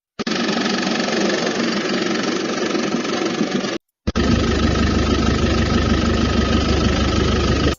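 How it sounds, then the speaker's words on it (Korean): A Hyundai heavy truck engine idles with a steady, loud low rumble. It breaks off briefly near the middle, then resumes with a deeper, heavier tone. "그 다음에는 현대 대형 트럭의 엔진 소리."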